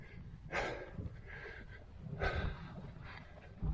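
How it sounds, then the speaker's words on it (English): A man walking a long-distance countryside route breathes heavily close to the microphone, with several rough exhalations and snorting breaths spaced a second or so apart over faint outdoor background. "Excuse the heavy breathing."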